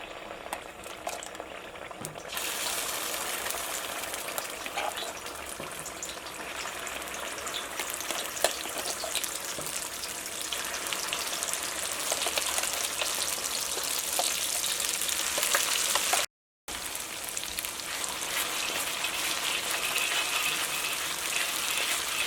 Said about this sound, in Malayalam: ഇപ്പോൾ ഓയിൽ ചൂടായിട്ടുണ്ട്. ഇതിലേക്ക് നമ്മൾ ഈ അരച്ചെടുത്തേക്കണ പേസ്റ്റ് ഉണ്ടല്ലോ, ഈ പേസ്റ്റ് ഇതിലേക്ക് ചേർക്കാം.